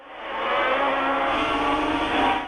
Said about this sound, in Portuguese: Os carros alinham para a largada.